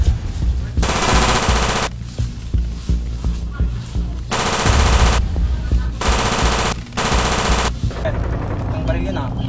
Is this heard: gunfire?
yes